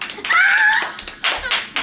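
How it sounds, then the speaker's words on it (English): A few people clap for a boy's seventh birthday, sparse uneven claps after a short high child-like vocal sound, close and brief. "Everyone give him applause."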